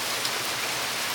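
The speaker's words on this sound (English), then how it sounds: "Today's adventure is not going to be much of an adventure because it's pouring down rain." Heavy rain pours down in a dense, steady hiss with no breaks, loud and close, with no voices.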